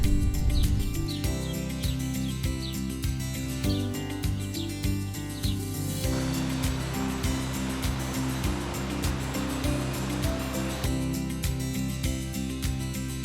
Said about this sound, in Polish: Idzie się wzdłuż koryta rzeki. To Triglavska Bystrica.